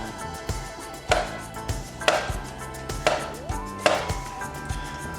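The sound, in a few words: knife slicing a banana into pieces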